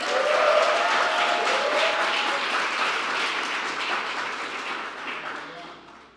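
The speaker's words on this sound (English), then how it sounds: "Let's give her a round of applause." A crowd at a community violence awareness ceremony breaks into sustained applause, dense and steady at first, then gradually thinning and fading out.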